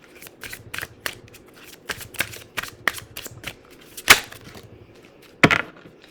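A deck of oracle cards being shuffled by hand, giving repeated close riffling bursts and soft card slaps at an uneven rhythm, with two sharper snaps near the end and no voices.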